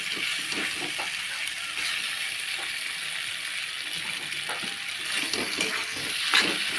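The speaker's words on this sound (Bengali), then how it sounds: "পাঁচ মিনিট নাড়াচাড়া করে নেব, ভালোভাবে পাস্তাটা ভাজা ভাজা করে নেব" Pasta frying in a pan while being stirred, a steady hiss with scattered light scraping and clicking from the stirring throughout, with no talking.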